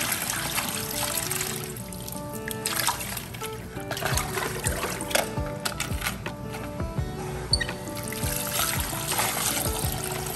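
Water trickles and splashes steadily at close range while a 24-karat gold necklace is being cleaned, a continuous wet patter with small irregular spatters.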